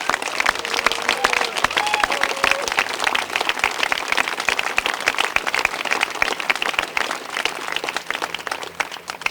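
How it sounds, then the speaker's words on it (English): A crowd gathered for a health care bill signing by Vermont's governor claps steadily, a dense, sustained burst of applause with no talking over it. "I think they deserve a huge round of applause."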